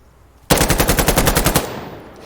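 A machine gun fires a single sustained burst of about a dozen rapid, evenly spaced shots in Insurgency Sandstorm, loud and close, then its echo fades.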